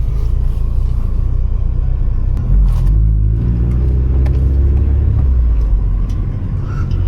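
A 2000 Honda Civic SiR fitted with a Nitro Fuse Garage full exhaust idles on a rainy night in Quezon City, a deep steady rumble with a slight swell in revs midway, no talk.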